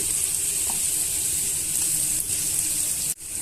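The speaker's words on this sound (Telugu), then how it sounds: "పసుపు వేసుకోవడం వల్ల ఉల్లిపాయ ముక్కలు త్వరగా వేగిపోతాయండి బ్రౌన్ కలర్ వచ్చేంత వరకు వేయించుకోండి" Onion pieces with turmeric fry steadily in a pan, a continuous close sizzle holding even throughout before cutting off abruptly near the end.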